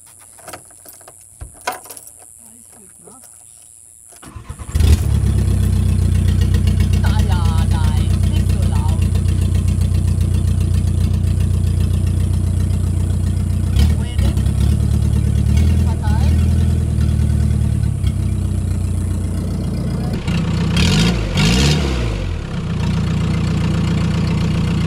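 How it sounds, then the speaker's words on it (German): A car engine started in fourth gear with the clutch pressed and the brake held hard, on a car with a suspected engine fault: near-silence, then at about five seconds a loud, steady engine roar that runs to the end, with occasional knocks. "Ich habe einen 4. Gang drin, ich stehe voll auf der Bremse, ich starte mit gedrückter Kupplung."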